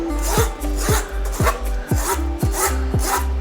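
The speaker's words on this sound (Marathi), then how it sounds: "आपले आंबे चांगले चाळणीवर घासून झालेले आहे" Ripe Hapus (Alphonso) mango pulp rubbed through a sieve, a rhythmic rasping scrape repeating roughly every half second, close and steady with a low hum underneath.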